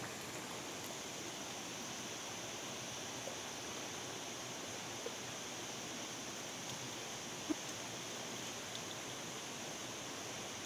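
Steady, faint broadband rush of a forest waterfall on a mountain walk, continuous and even with no talk, a few tiny clicks or taps breaking the wash of falling water.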